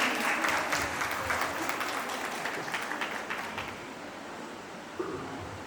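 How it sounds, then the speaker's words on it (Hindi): At a women's society Savan festival program, an audience bursts into loud, sustained applause that gradually thins and fades toward the end, with a single sharp clap near the close. "तो आप सबके लिए जोरदार तालियां चाहिए"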